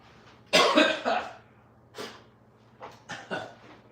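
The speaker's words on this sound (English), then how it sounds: "I'm gonna go over here and cough" A few harsh coughs close by from a piece of banana pepper caught in the throat, a cluster of rough bursts followed by a couple of quieter, spaced coughs and throat clearing.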